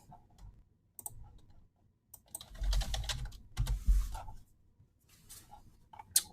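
Bursts of quick clicking keystrokes on a computer keyboard, close and moderately loud, with short pauses between runs of typing.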